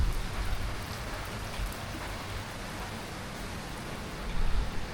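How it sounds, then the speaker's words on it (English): Heavy rain pours down in a dense, steady hiss with a low rumble, heard outdoors on a coastal cycle path, with no voices. "it's just bucketing down."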